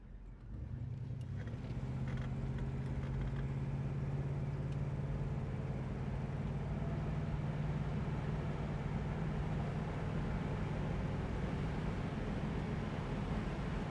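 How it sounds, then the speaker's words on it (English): Steady, loud engine and road drone from a 1968 Pontiac GTO convertible running through the gears, with wind rush and a constant low hum and no distinct shifts. "Let's run it through the gears here a little bit"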